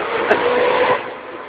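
A taxi engine running during a demonstration of an engine oil product, heard as a close, steady mechanical hum for about a second and a half.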